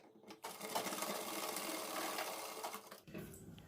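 A sewing machine runs steadily for about two and a half seconds, stitching a kurti collar against buckram, starting and stopping abruptly with quieter handling noise around it.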